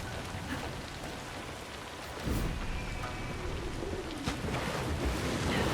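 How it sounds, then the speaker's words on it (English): Steady rain falls in the video game Assassin's Creed Shadows, a dense even hiss of drops on surfaces that swells slightly louder partway through. No one speaks. "Love how realistic the rain is."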